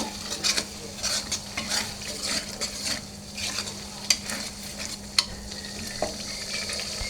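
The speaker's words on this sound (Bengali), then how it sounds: "এটাকে আমি ভালো করে একটু লাড়া দিয়ে নেব" A spatula stirs chicken masala with a spoonful of sugar in a sizzling pan, giving repeated scraping strokes and occasional metallic clinks over a constant frying hiss.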